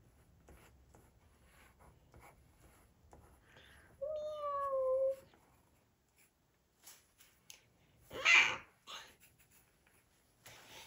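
A person imitating a cat's meow, a short drawn-out mewing sound in a quiet room, followed by a brief scratchy rustle; nobody else speaks.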